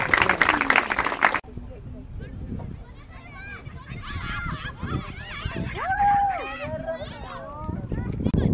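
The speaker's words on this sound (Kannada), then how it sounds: "ಎಲ್ಲರೂ ಚಪ್ಪಾಳೆ ತಟ್ತಾನೆ ಇರಿ" Crowd applause at a state-level T-10 women's cricket tournament bursts out briefly at the start, then fades into voices and scattered shouts from the ground.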